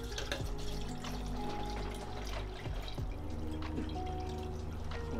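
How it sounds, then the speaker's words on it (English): Water runs and trickles faintly into containers while film-developing chemicals are mixed at home, a quiet steady flow with a few soft drips and clinks. "just fill each of these up with 400 ml of water"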